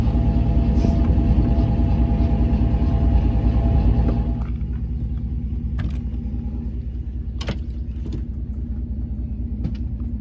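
A big pickup truck's engine rumbling low and steady while moving a travel trailer, loud at first and then easing to a softer idle-like drone, with a few light knocks and no talk.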